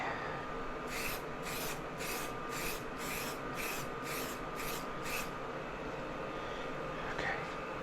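A spray can giving a light dusting in a series of about nine short, evenly spaced hisses, each under a second, followed by a faint later burst over steady background hum.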